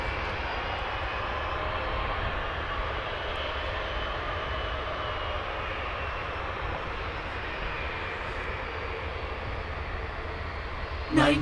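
Boeing 757 airliner on flight 769 to Ontario, California, taxiing closer after pushback, a steady broad engine rumble and whine holding at moderate level throughout, with faint voices in the background.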